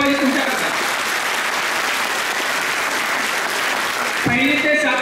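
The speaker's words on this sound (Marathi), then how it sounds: "टाळ्या झाल्या पाहिजे तुमच्याकडे" An audience in a spacious college hall at Dada Patil College, Karjat, gives loud, sustained applause, the dense clapping filling the room before a voice speaks over it at the end.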